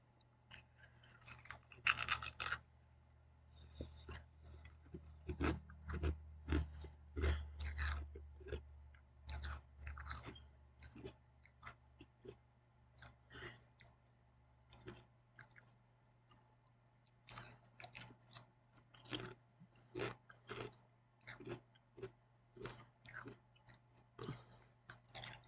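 Light, airy Japanese chips are chewed up close in a run of sharp, irregular crunches that thin out, pause, then resume in quick bursts, with no speech.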